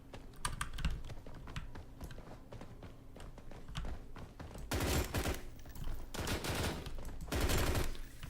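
Rapid gunfire from a low-recoil gun in the video game BRM5 crackles in quick bursts, alongside clicking keyboard and mouse input, fairly faint overall.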